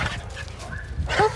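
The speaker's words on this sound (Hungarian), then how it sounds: "Milyen kis akrobata kutya!" A small, playful dog lets out a few short yips and whimpering barks, close and fairly loud, with a brighter, sharper yelp near the end.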